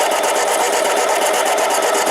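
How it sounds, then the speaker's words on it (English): A Harbor Freight 7x10 mini lathe turns a 304 stainless steel bolt, a loud, steady, harsh cutting screech with a slightly pulsing, interrupted texture from the uneven cut, heard close up with no talking. "here we are cutting 304 stainless"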